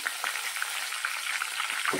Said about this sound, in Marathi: फक्त 5-6 मिरच्या हिरव्या तळून घ्यायच्या आहेत.